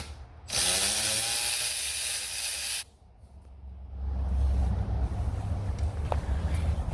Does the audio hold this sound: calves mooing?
no